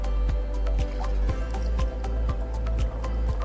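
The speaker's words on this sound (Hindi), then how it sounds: "एक में पहले मैं ब्रांडेड बाहर का पानी डालूंगी" Branded packaged drinking water poured into a glass, a close, steady liquid stream with repeated drip-like splashes and gurgles over a few seconds, no talking.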